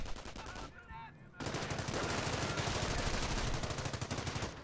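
In a World War II strategy game match, a base machine gun fires in rapid continuous bursts with a brief pause near the start, loud and steady over faint game ambience.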